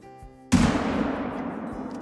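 Single loud rifle shot at a bison in a hunting video game, sharp and close, with a long rolling echo that fades across the open landscape over the next second and a half.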